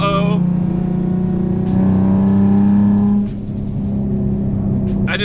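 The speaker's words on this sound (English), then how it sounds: "I just love downshifting." A Nissan 370Z engine roars up in a sharp rev, holds a loud rising note, then drops as the car downshifts, with quick crackles toward the end and a voice talking over the engine.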